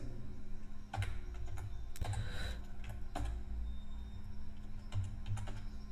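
Code being typed on a computer keyboard, a close, steady stream of light key clicks with a few heavier strokes at roughly one-second intervals, with no voice over it.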